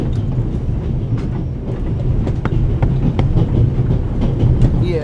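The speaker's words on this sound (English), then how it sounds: "The noise on this train is driving me crazy." Train in the video game The Raven Remastered, set aboard the Orient Express, rumbling loudly and steadily with a low roar and faint clickety-clack of wheels, continuous throughout.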